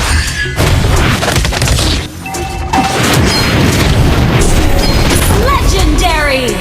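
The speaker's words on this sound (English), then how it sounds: "Your team destroyed a turret!" A turret is destroyed in the Mobile Legends video game amid loud, dense game effects: booming impacts, crashes and continuous battle noise, with a brief dip before the clamor resumes.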